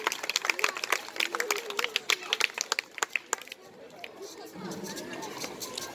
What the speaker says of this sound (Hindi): जोरदार तालियों के साथ कमल का स्वागत करें।